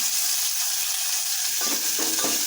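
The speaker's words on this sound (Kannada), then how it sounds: "ಮತ್ತೀಗ ನಾನು ಉಳ್ಳಾಗಡ್ಡಿ ಟೊಮೆಟೊ ಹಾಕೋತೀನಿ ನೋಡಿರಿ" Onion and tomato hit hot oil in a pan with a steady, loud sizzle, and a few stirring scrapes come near the end.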